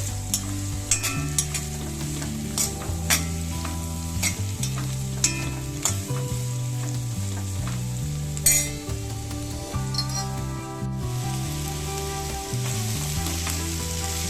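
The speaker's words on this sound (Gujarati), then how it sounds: "તો બસ આને આપણે એક વખત હલાવી લઈએ." Bitter gourd sizzles in a pan while a utensil scrapes and clinks repeatedly in an irregular stirring rhythm, close and clear, no voices.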